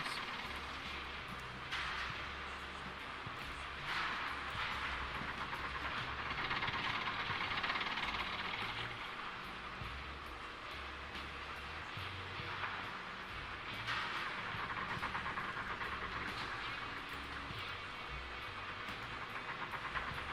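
A freight train hauling lumber cars in the Railroads Online game rolls along with a continuous mechanical rumble, hiss and faint rhythmic clatter, steady at moderate loudness with periodic bursts of brighter noise and no talking.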